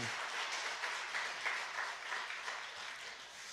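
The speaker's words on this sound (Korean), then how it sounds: "박수 아까 했나요, 안 했나요? 그래도 또 한 번 해주시네." A church congregation claps in a sustained, even round of applause, moderately distant and faint, with no voices over it.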